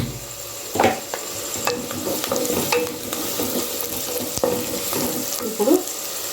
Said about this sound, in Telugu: నెక్స్ట్ కొంచెం వేగనిద్దాం దీన్ని